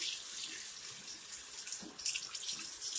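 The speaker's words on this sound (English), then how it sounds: "I'm going to rinse his hair under the sink" Tap water runs into a sink as a baby's hair is rinsed, a steady close hiss and splash that swells slightly louder toward the end, with no voices.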